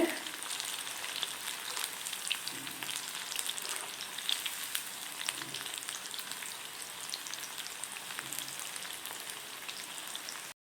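Baby corn deep-frying in hot oil over a medium flame, a steady, dense crackling sizzle like rain that runs evenly and fairly loud throughout, with no voices.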